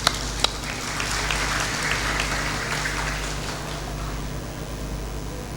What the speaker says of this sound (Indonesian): secara bersama kita memberi aplaus kepada kita dan calon bupati yang ada di depan